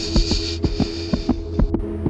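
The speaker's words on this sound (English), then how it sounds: "her heart pounding" A pounding heartbeat sound effect, loud paired thumps in a steady rhythm over a constant low hum.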